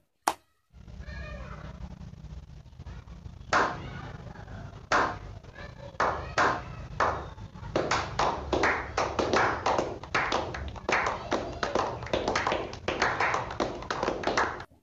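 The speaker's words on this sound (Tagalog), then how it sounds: "So, palakpak!" Sharp close claps start sparsely, then pick up into a faster, irregular run of clapping with a cat meowing faintly early on.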